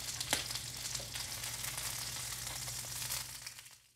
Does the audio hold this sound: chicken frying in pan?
yes